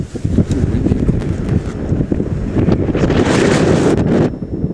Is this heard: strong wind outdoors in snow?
yes